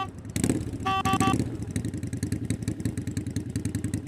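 Motorcycle engine idling nearby: a close, rhythmic low putter pulses steadily throughout, with a brief clatter and a tonal beep early on.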